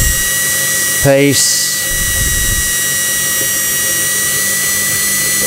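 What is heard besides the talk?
drill slowly drilling into steel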